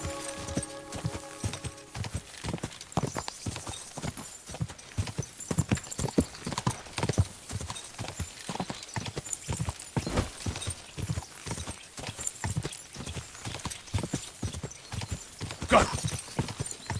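Rapid hoofbeats of a galloping horse in the game Kingdom Come Deliverance 2, clattering rhythmically and steadily throughout, with brief bits of a voice in the background.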